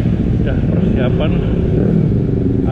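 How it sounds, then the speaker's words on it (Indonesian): Kawasaki Versys motorcycles set off together from a rally meet, engines droning and revving loudly at close range, with voices talking over the steady mechanical roar. "akan berangkat motor-motor dari Versys owner Indonesia."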